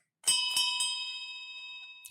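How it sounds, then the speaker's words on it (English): A last call bell is struck three quick times, bright and metallic, and the clear ringing tone lingers and slowly fades in an otherwise quiet space. "I hear the last call bell"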